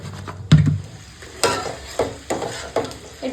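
Sliced potatoes get stirred with turmeric, salt and chili powder for khichuri-style fried potatoes, a series of close scraping, rattling strokes in a pan, about six distinct bursts at uneven intervals.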